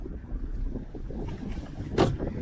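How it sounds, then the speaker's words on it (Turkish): Steady buffeting wind rumbling against the microphone, a low continuous roar with a brief louder gust near the end. "Çok rüzgar var"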